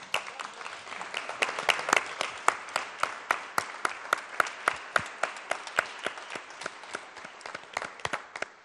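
An audience at a Shawinigan city council meeting applauds steadily throughout, a dense run of handclaps from a modest indoor crowd with sharper individual claps standing out.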